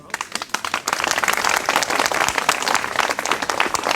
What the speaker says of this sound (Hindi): अगर बेहद जरूरी है तो ताली भी बहुत कमजोर है।